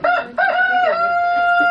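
An ordinary rooster crows near the Kuélap fortress in Chachapoyas, Peru, giving one loud, close, drawn-out crow with no other sound around it.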